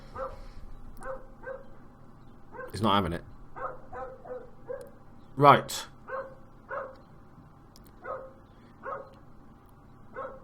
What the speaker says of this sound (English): I hope you can hear the barking, otherwise that's really weird.